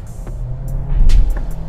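A Volkswagen T-Roc with the 1.5 TSI Evo petrol engine accelerating, a steady low engine drone that swells in loudness toward the end, heard alone without talk.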